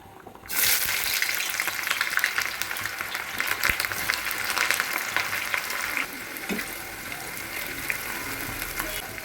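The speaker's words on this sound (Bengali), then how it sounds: "এদিকে পেঁয়াজ ভাজা হচ্ছে" Onions frying in a kadai, a sudden bright sizzle that starts loud then settles into a steady hiss with faint crackles, close and continuous.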